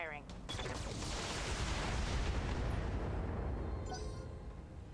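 Mech weapons firing in the video game Battletech, a Brutus mech loosing large lasers and LRM 20 and SRM missile salvos, heard as one long roaring rush of fire and explosions that swells and fades.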